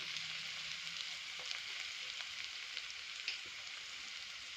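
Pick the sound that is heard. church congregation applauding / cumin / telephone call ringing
cumin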